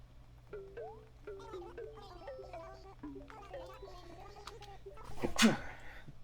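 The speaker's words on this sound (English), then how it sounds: "Excuse me, I just sneezed." One loud, close human sneeze bursts out near the end, over soft background music from an Animal Crossing game on a 3DS.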